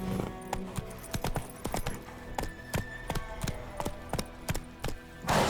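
Horse galloping in The Witcher 3, a rapid run of close, crisp hoofbeats in uneven rhythm, loud and clear with little else around them.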